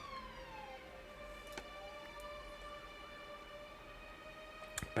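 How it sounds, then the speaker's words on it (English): Distant police sirens sound outdoors at night, their long wailing tones gliding slowly up and down together at low volume, broken by a few sharp clicks near the end. "There are a lot of sirens this evening."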